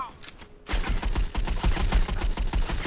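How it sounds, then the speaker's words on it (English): Rapid bursts of gunfire in the mobile shooter Modern Combat 5, a dense rattling run of shots that starts abruptly and continues steadily, loud and close. "Someone else is trying to shoot me now."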